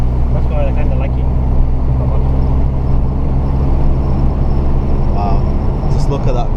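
A 2008 Vauxhall Astra H 1.4 SXi with its 88 hp engine, stock exhaust and a possible hole making it extremely loud, drones steadily and close from inside the car while driving, with people talking over it.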